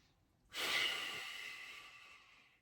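A long, forceful breath during a core workout exercise, with the head lifted and chin tucked, rushing in close and loud then trailing off slowly, alone without talk.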